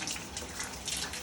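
Water from a Rinseroo hose attachment sprays steadily over a window screen during spring cleaning, a continuous, close hiss of rinsing with no talking.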